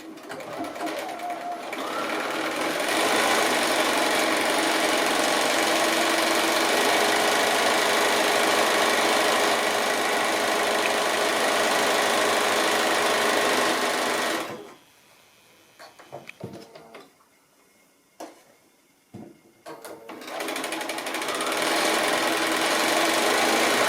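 A sewing machine runs steadily and loud while stitching diagonal lines across 10 inch fabric squares, a continuous whirring hum for about fifteen seconds, then a pause with a few short bursts before it picks up again.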